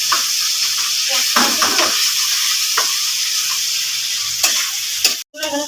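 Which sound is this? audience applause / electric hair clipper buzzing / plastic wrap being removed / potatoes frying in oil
potatoes frying in oil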